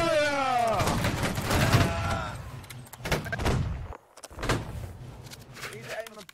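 A musket volley in the Napoleonic-era battle game Holdfast: Nations at War. A shouted command comes first, then a ragged crackle of many shots in quick succession with a few stragglers, and voices carry on underneath.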